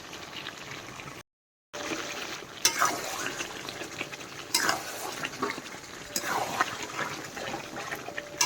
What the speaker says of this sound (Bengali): এই যে গিলে কষা চলছে